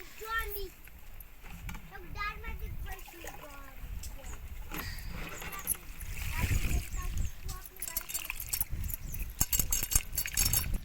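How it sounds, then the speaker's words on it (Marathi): Water splashing and sloshing as tamarind flowers are rinsed by hand, with someone talking over the wet swishes. "ही दोन पाण्यानं धुले आणि एक पाण्यानं धुते"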